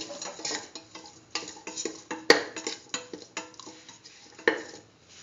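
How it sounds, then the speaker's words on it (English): A spoon stirs salt into a pot of potato, chayote, tomato and coconut milk, giving quick irregular scrapes and light metallic clinks. Two sharper knocks stand out against the pan, close and alone. "Mix in the salt."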